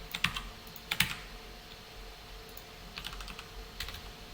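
Light typing on a computer keyboard while writing JavaScript code, with scattered soft key clicks and a few louder clustered taps in a quiet room.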